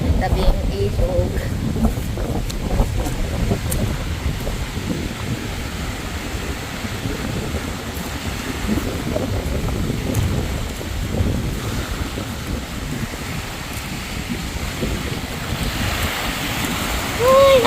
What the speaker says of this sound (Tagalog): Kaya medyo mahangin siya